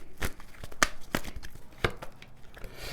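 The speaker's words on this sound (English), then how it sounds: "I'm just gonna shuffle these cards" Tarot cards are shuffled by hand in a few sharp, irregular riffles and slaps, close and fairly quiet, with brief papery rustles between the strikes and no talking.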